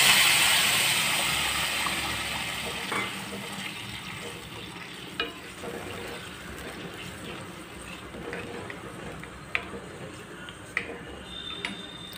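Ridge gourd stir-frying in a pan with mustard seeds, cumin, onion and curry leaves, a steady crackling sizzle that fades gradually, with a few sharp taps of a spoon on the pan.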